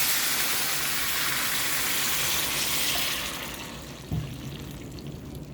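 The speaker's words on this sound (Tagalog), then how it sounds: "lagyan ko ng tubig." Steady gushing of water poured into a pot for about three seconds, then it tapers off into quieter trickling with a small clunk near the end.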